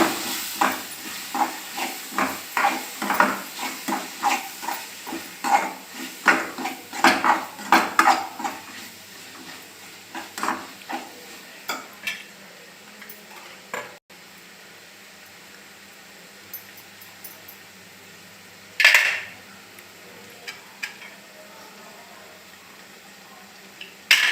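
Turmeric stirred into a cooked tomato mixture in a pot for tomato rice: rapid clattering of a spoon against metal for several seconds, then a faint simmer with an occasional knock.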